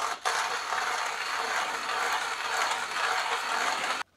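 An electric grinder whirs through coffee beans for a Pixa portable espresso maker, a steady, close, loud buzzing grind that starts abruptly and cuts off just before the end.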